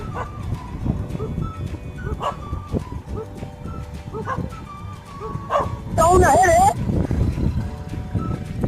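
A dog barks repeatedly in short yelping bursts, fairly close, while someone talks over it and a louder burst of noise cuts in near the end.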